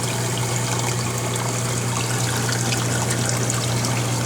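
A Coral Life protein skimmer runs in a 55-gallon saltwater reef tank, giving a steady close trickle and churn of water with a constant low pump hum throughout.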